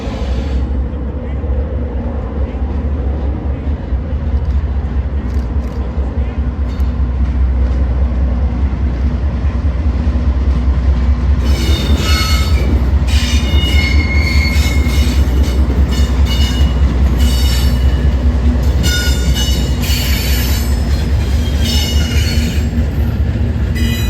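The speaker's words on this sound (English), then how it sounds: "Next, we'd see CPKC 148 working Bensenville Yard." CPKC locomotive 148 rumbles steadily through switching work at Bensenville Yard, a deep continuous engine drone joined about halfway by shrill wheel squeals and clanking of rail cars, loud and close throughout.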